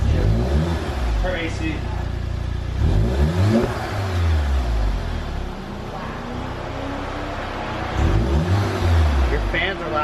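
A VW GTI MK7 fitted with an AWE track exhaust revs repeatedly, deep rising and falling engine swells in several bursts, close by, with people talking over it.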